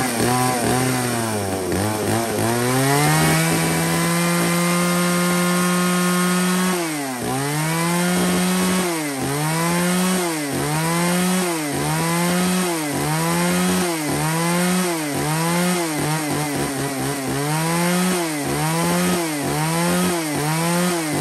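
A Makita 34cc top-handle chainsaw with a chain brake runs alone, revving from a steady idle into repeated rising and falling bursts of throttle at a regular pace, loud and close throughout.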